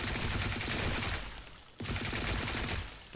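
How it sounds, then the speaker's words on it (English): Rapid automatic fire from an ACR rifle fitted with a suppressor in the shooter game Blackshot crackles as a dense, continuous burst, breaks for an instant, then resumes, loud and close with no talk. "Let's open fire."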